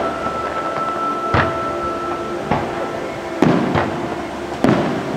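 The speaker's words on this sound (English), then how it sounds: "They're doing a special fireworks show, which we totally forgot about." Distant fireworks show at EPCOT, heard as several separate booming bursts a second or so apart over steady crowd and park background noise.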